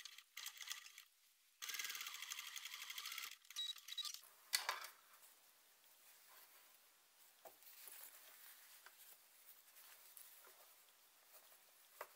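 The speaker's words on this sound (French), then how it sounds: "Épingler et piquer tout le long dans la couture du biais." A sewing machine stitches along a bias binding seam in bursts of fast mechanical chatter separated by pauses, quiet overall with small clicks and handling noises between runs.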